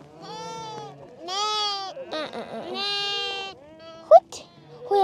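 Young goat kids bleat repeatedly at close range, several drawn-out wavering cries in succession, with a person speaking between them.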